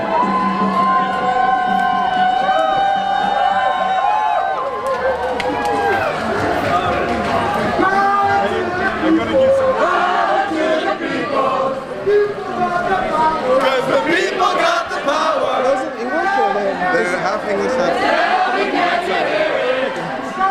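Dense crowd noise from an Extinction Rebellion climate march in Utrecht, Netherlands: overlapping voices, shouts and cheering chatter fill the whole stretch at close range, steady and loud with scattered individual calls rising above the mass.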